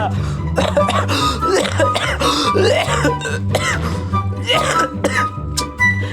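A person coughs repeatedly in harsh, throaty bursts while playing Minecraft, close to the microphone, with looping game music playing steadily underneath.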